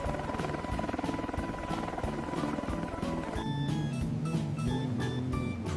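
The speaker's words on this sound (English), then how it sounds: "Search and rescue helicopter." Steady rotor thrum and engine buzz of a search and rescue helicopter continue without a break from start to finish, loud and close, with tonal whines that shift partway through.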